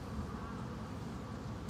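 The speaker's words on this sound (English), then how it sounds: "Looks like about like 5 pounds of bees there." A captured swarm of honey bees in Ottawa, Ontario, fills the moment with a dense, continuous buzzing hum, close and steady, alone without voices.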